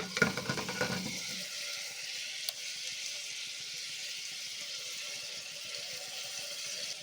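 Mutton liver and ground masala sizzle in a pan, a brief stir and clatter at the start giving way to a soft, steady hiss that carries on alone at a low level.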